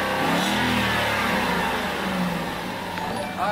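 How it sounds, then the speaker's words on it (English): A V8 car engine revs up in a rough, mid-pitched surge, then settles to a steady throaty drone, heard close and fairly loud with no talk over it. "V8 engine. It just sounds so good."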